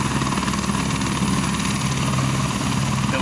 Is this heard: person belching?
no